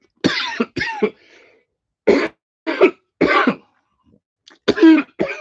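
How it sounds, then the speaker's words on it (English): A series of harsh coughs in separate bursts, some doubled, with short pauses between them, close and fairly loud. "cough attack."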